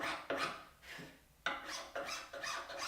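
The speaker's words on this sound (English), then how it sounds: "curly maple is tricky, so it's always nice to have a good wood file in hand." A wood file rasping across curly maple in repeated strokes, each a broad scraping burst with short pauses between, close and fairly quiet, no voices.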